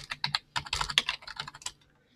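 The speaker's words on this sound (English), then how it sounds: "I'm going to type in here" Rapid typing on a computer keyboard, close and fairly loud, with uneven bursts of keystrokes that trail off near the end.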